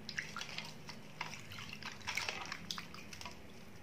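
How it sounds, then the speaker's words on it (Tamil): Water drips and trickles softly while an oily Karthigai Deepam oil lamp is washed, with faint scattered splashes and light handling sounds over a quiet background. "இப்போ அதே தண்ணியில் கழுவிக்கலாம்."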